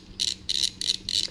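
Four short metallic ratchet bursts, evenly spaced, as a wrench tightens the oiled main case nuts on an aircooled VW engine during longblock assembly; close and clear with no talk.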